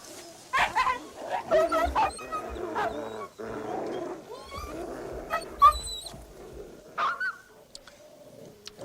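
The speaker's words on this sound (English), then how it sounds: "These dogs are both willing to put it to the test. They fight to the finish." Dogs fighting to the finish, trained fighting dogs locked in combat, giving out snarls, barks and whimpers in irregular bursts, with roar-like growls rising and falling over a busy background.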